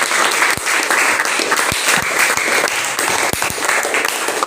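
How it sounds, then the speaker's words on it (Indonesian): Classroom students clap their hands together in a dense, steady burst of applause lasting several seconds, with a few sharper individual claps standing out. "maka kita tepuk tangan dulu semuanya."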